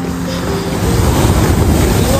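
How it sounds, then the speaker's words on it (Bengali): Rough sea waves churn and crash in a loud, continuous roar at Digha beach, heavily buffeted by wind on the microphone. "সমুদ্রের পানি একদম উতাল পাতাল করছে"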